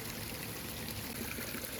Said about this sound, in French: il y a un filet d'eau qui coule